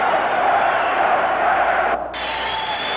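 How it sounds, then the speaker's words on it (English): A dense, steady roar of a boxing crowd in an arena in Bismarck, North Dakota, loud and continuous with a brief dip near the end, with no distinct voices standing out. "it's been a roaring crowd from the beginning of the day here in Bismarck, North Dakota"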